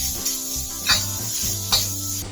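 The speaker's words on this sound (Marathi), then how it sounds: "कांदा असं भाजून घ्यायचं चांगलं" Sliced onion frying in a pan, a soft steady sizzle with a couple of brief louder scraping stirs, close and quiet with no talking.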